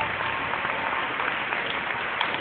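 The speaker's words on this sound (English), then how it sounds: "Let's give our chairman a round of applause." An audience applauds their chairman at a church convention, a steady wash of clapping that stays even and fairly distant throughout, with no voices rising above it.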